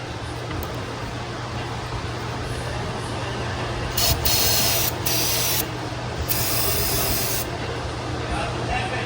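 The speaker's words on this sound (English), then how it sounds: "we're gonna start cleaning this out with a little bit of brake clean" Brake cleaner hisses from a spray can in bursts while carbon is cleaned out of a new Volkswagen Touareg, each spurt a bright, close hiss over a steady low hum and rubbing noise.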